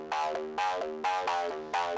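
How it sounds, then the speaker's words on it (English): A raw, unprocessed Serum synth patch from a remake plays a repeating riff of four bright, buzzy stabs with rich harmonics, each note with a sharp attack and short sustain, loud and alone. "Regular Serum sounds like this"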